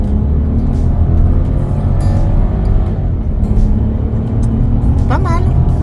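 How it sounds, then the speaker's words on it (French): Interior of a 2024 Volkswagen T-Cross R accelerating, a loud, steady engine and road drone rising slightly, with people chatting over it inside the car. "Voilà, je vais accélérer un peu."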